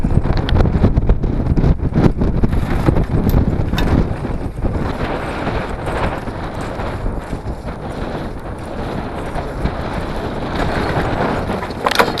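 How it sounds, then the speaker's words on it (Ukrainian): Strong wind on a mountain in the Carpathians buffets the microphone in heavy, gusting roars, loudest at the start and easing slightly before surging again. "Надіюсь, мене чути, тому що тут нереальний вітер."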